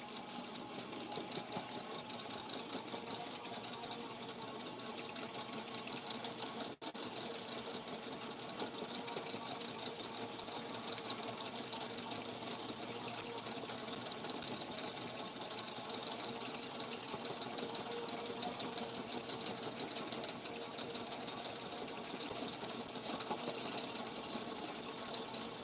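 Hxw Raptors solid braided fishing line winding onto a fishing reel, giving a steady, continuous whirring mechanical hum with a fast buzzing texture that runs unbroken and evenly loud throughout, with no talking over it.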